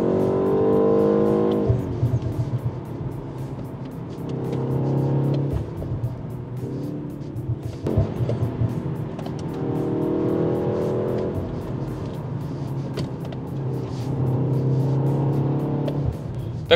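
A BMW M135 F70 xDrive hot hatch drives along, its engine note steady and close with harmonic drone rising and easing in waves, alone without voices.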